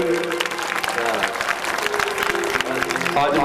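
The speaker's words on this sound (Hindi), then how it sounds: "सुंदर तालियों से आप सभी स्वागत करेंगे।" An audience at a rural Bhagavat Katha gathering claps to welcome a statue gifted to the Maharaj, sustained clapping mixed with crowd noise and a voice speaking over it.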